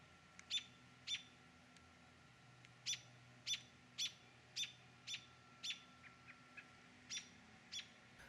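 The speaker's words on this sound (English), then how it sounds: "Mom anxiously chirps and jumps around while her chick tries to get oriented." A mother bird chirps anxiously near her chick, giving sharp, high single calls at uneven intervals, some in quick pairs, close by and fairly clear over a quiet outdoor background.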